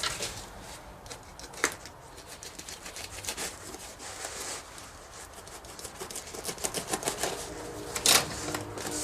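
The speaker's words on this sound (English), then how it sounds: "I'm going to cut this bottom out a little bit." A foam block has its bottom cut out while making a turkey decoy, producing irregular scratchy crackles and taps, close and moderately loud, with a few sharper snaps.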